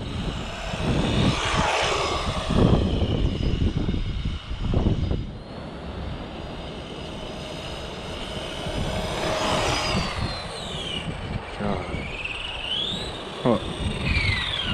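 A stock Arrma Typhon Mega brushed RC car motor whining as it drives, a buzzing electric drone that swells and fades with passes, with rumbling ground noise and a voice talking briefly over it.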